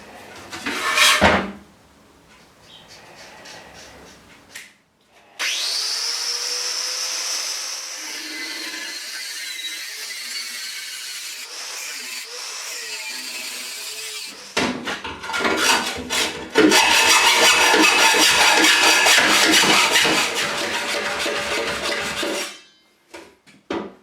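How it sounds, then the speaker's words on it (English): Close-up cutting noises: sharp knocks and clatter, then a long grinding rasp as a pipe is sawn or cut through, ending with a few clunks. "Just going to cut it off there like that and just liberate that bit of the pipe"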